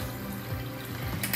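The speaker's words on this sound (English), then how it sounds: "we're just gonna turn the water on" Water running from a kitchen tap, likely into a sink where tumbler cups are about to be washed, gives a steady, close hiss throughout with no one speaking.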